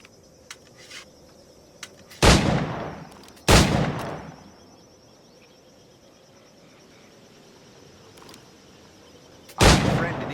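Firearm gunshots in Assassin's Creed IV Black Flag: three sharp, loud single shots spaced several seconds apart, each with a short echoing tail, over quiet ambient background with a few faint clicks.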